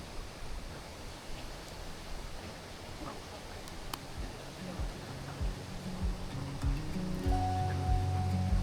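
Waterfall in a wooded outdoor setting, a constant broadband rush of falling water heard at moderate level, with some tonal sounds creeping in toward the end.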